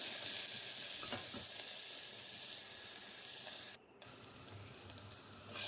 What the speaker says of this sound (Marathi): आपल्याला थोडीशी 5-6 कढीपत्त्याची पानं आणि कांदा तेलावर परतून